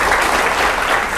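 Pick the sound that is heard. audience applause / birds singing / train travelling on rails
audience applause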